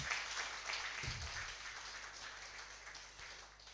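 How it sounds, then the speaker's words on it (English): An audience at a community development close-out ceremony applauds to welcome chairperson Honorable Ibrahim Tia. The clapping is a steady wash of many hands that fills the whole moment, fairly distant, and slowly fades toward the end. "Honorable, with the way you clapped your hands, I see a lot of acceptance."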